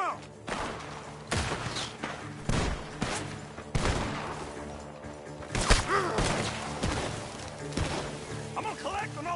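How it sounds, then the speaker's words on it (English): Rapid bursts of gunfire in the video game Red Dead Redemption 2 crack repeatedly from a barn, some sharp and close, mixed with thuds and crashes, while voices shout underneath. "The gunshots are coming from that barn!"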